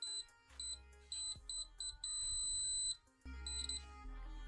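ZOYI ZT-MD1 LCR meter in continuity mode, sounding a series of short, loud, high-pitched electronic beeps in quick bursts, with one longer sustained tone, close up and with no talking.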